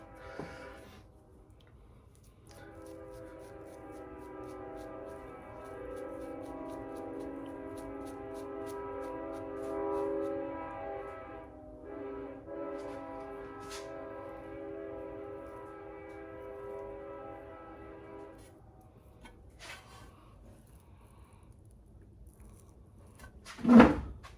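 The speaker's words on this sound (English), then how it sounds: "There's a train track here nearby." A train passes at a distance near a rail track, a steady rumbling drone with sustained horn-like tones that swell and fade over about twenty seconds, followed by a sharp close knock at the end.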